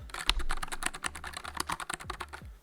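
Fingers type quickly on a clicky 75% mechanical keyboard, producing a dense run of sharp, close clacks in an irregular rhythm, quiet and heard alone.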